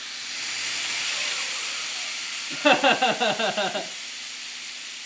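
Burger patty smashed onto a hot skillet for a thin smash burger, giving a loud, steady sizzling hiss close up, with a brief burst of a voice in the middle.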